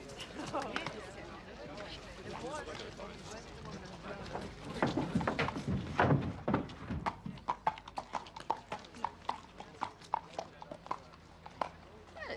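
Forest pony hooves clip-clop in a steady walking rhythm, growing clearer and more distinct toward the end, with people talking over the earlier part.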